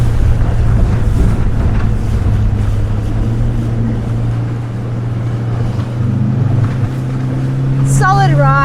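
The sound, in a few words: Highfield 380 Sport boat engine during sharp turn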